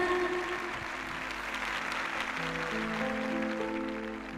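Audience in a church applauding loudly together in praise, a dense, steady clatter of clapping that holds for several seconds and thins slightly at the end, with no talk over it.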